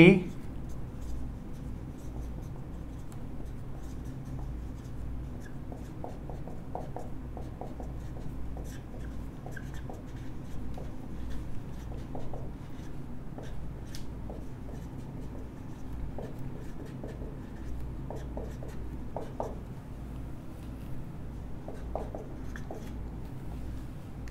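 Chalk or marker writing a chemistry reaction mechanism on a classroom board, faint repeated scratchy strokes in irregular bursts beneath a teacher's continuous lecturing.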